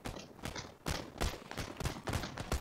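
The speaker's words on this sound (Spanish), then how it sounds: "los tiros se escuchan muy mal" Gunfire in the online shooter PlayerUnknown's Battlegrounds: a rapid run of sharp, fairly faint shots in an uneven burst-like rhythm, sounding a little distant and thin.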